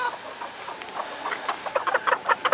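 Mother hen clucking softly among newly hatched chicks, with faint high peeps; the calls grow louder and more frequent toward the end, close by with no talking.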